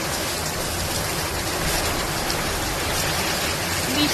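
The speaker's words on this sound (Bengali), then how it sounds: "আবার ঝড়ও ছেড়েছে বাইরে থেকে, দেখো এই দেখো হাওয়া হচ্ছে" Storm wind and heavy rain lash the outside of a tent, a steady loud broadband roar of rainfall and gusts that holds evenly throughout with no voices.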